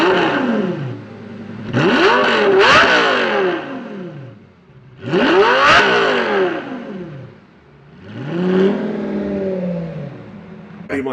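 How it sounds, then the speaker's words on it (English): A 2000s Lamborghini V10 engine of a Murcielago or Gallardo revs hard in three loud, close bursts, each climbing in pitch then falling away, with brief lulls between them. "Like the 2000s Lamborghini sounded amazing,"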